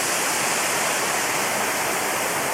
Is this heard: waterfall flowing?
yes